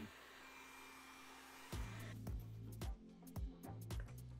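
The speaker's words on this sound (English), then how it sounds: "our next step is going to heat curl the foam pieces before we assemble them" A hot air tool blows steadily to heat-curl craft foam pieces for a Mega-Man helmet; a close whooshing hum runs throughout, joined after a couple of seconds by several short bursts.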